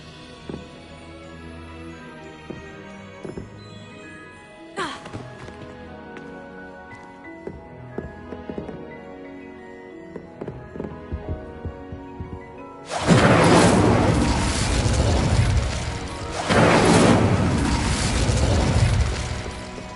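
Incendio fire spell cast in Hogwarts Legacy: after quieter chiming, clinking game sounds, a sudden loud roaring, crackling burst of fire swells and holds for several seconds, flaring again near the end.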